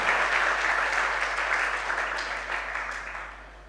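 An audience at a religious gathering claps together in a dense, continuous round of applause that slowly fades over a few seconds, with no voices over it.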